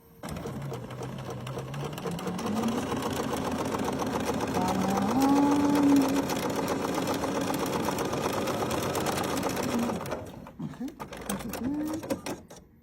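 A Bernina sewing machine stitches a French seam with a steady, close mechanical whirr of rapid needle strokes that rises and dips in pitch, continuing for about ten seconds before stopping into a few clicks.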